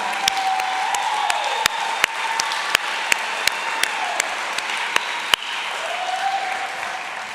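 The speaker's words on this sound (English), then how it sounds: "please join us in a round of applause for such amazing dedication" A crowd claps, its applause steady and fairly close, mixed with several sharp, distinct claps. A faint tone comes and goes in the background.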